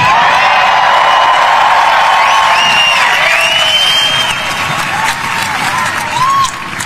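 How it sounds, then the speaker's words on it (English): A large crowd at Donald Trump's July 4 speech cheers and applauds steadily throughout, with whoops rising above the dense clapping before it thins slightly near the end. "the crowd cheered him on"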